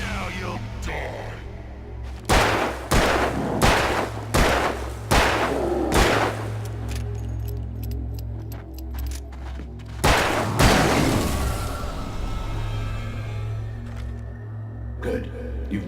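Gunshots ring out in the Alan Wake video game: a volley of sharp broadband cracks near the start, several spaced blasts over the first six seconds, then one more around ten seconds, all above a low droning ambient bed.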